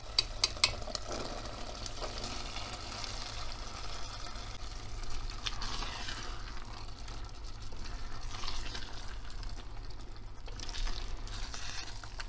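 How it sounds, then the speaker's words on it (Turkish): Beans sautéing with cooked tomatoes in a pan, a steady close sizzle with soft stirring scrapes throughout, over a low background hum. "Şöyle 1-2 dakika fasulye ile birlikte biraz kavurur gibi yapalım."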